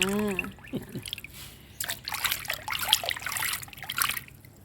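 Mushrooms are dipped and rinsed in water, giving soft trickling, sloshing and splashing at close range, while a voice speaks briefly at the start.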